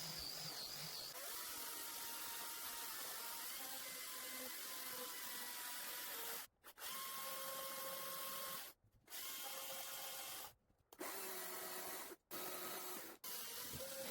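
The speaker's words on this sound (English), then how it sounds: "the cut tool, donut, wood removal disc on the Erbo angle grinder" An Arbortech-style donut wood removal disc on an angle grinder whines continuously as it carves a wooden barn owl, then stops and restarts several times in short bursts near the end.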